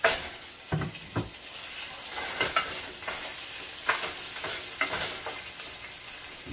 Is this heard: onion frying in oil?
yes